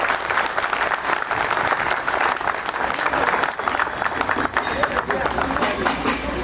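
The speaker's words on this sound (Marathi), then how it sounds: "जास्तीत जास्त टाळ्या वाजवा" A large crowd at a community centenary gathering bursts into sustained, dense applause that runs unbroken throughout, with some voices mixed into the clapping.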